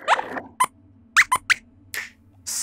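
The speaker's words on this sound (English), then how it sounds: "Squeaks." Several short, high squeaks in quick irregular bursts, some single and some paired, close and clear over a faint steady hum.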